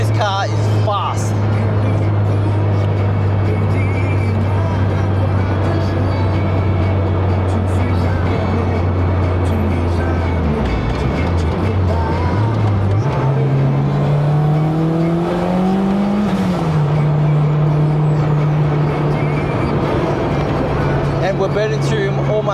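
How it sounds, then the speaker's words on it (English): Fast car engine at night, a loud steady drone that drops, surges and revs up again with rising pitch mid-clip, strong throughout; speech probably underneath. "This car is fast."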